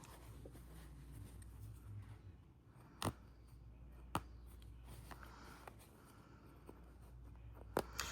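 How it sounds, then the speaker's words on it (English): A seam ripper cuts through stitches in quilt fabric, faint quiet scratching and soft tearing with a few sharp isolated snaps of thread breaking, close by in a quiet room. "take your seam ripper and rip it straight down your fabric, holding it taut"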